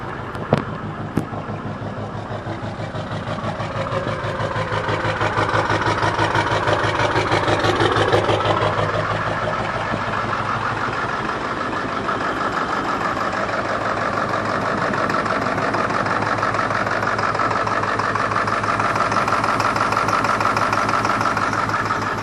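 Ford 7.3L Powerstroke diesel on a half-million-mile truck with a P1316 code, clattering at a steady idle right after starting, loud and close with a rhythmic knocking pulse throughout.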